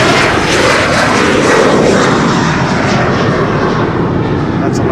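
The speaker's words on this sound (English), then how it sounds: "That's an Embraer." Embraer jet airliner taking off from runway 36L at Amsterdam Schiphol, a loud, steady broadband engine roar that holds at full strength for the whole stretch, with no other sounds standing out.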